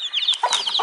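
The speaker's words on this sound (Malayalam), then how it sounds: "അപ്പൊ ബേബി അതിന് പകരം ചെറിയ കുറെ കോഴിക്കുഞ്ഞുങ്ങളെ കോഴീനായിട്ട് വന്നിട്ടുണ്ട്." Small chicks peeping close by in a rapid burst of high, thin chirps that overlap one another.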